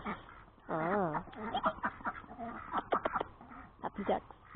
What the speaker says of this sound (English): Happy ducks.